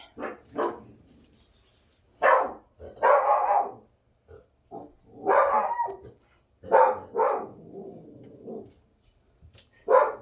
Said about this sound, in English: my dog is bark